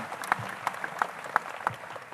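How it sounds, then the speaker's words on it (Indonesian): An audience applauds Kediri at a cultural gathering, with steady clapping and a few sharper claps standing out, moderately distant and brief. "Tepuk tangan buat Kediri."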